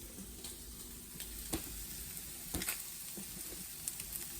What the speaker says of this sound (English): Now at the same time, I'm gonna add some garlic.